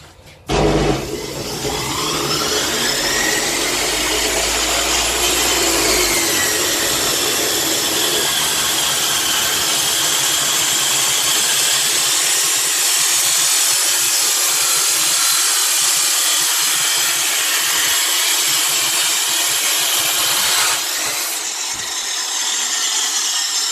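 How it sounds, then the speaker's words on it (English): An Evolution Rage 2 abrasive saw whines up and grinds loudly through thick stock in one long continuous cut of about twenty seconds before spinning down, with no voices. "So I'll just go through with the abrasive saw now."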